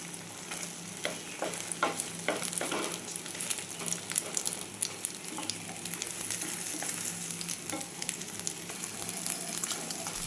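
An egg roll fries in hot oil in a pan, giving a steady crackling sizzle with scattered sharp pops and occasional stirring or pressing sounds throughout, fairly quiet and without talk.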